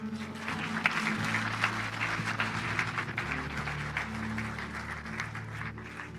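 A church congregation applauding and cheering together during a worship service, a steady dense wall of clapping with a sustained low hum of voices and music underneath.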